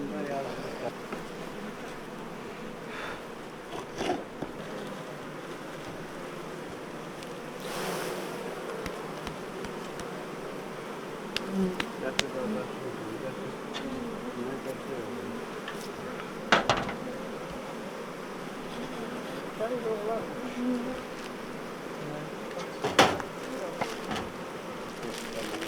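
Bees hum and buzz around mountain hives in rural Iran, a soft continuous drone with flies mixed in, occasional clinks and knocks nearby, and faint voices at times.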